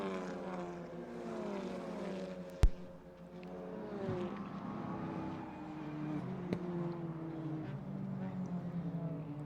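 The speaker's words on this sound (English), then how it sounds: "As the Audis make their way into turn number 9 once again." Audi race cars at Canadian Tire Motorsport Park drone through a corner, several engines rising and falling in pitch as they pass at a moderate distance, with a sharp knock early on.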